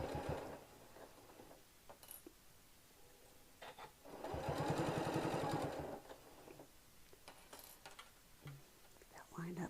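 A sewing machine stitches fabric in a burst of steady, rapid mechanical whirring lasting about two seconds. Shorter ticks and clicks come before and after, and a voice is faintly present.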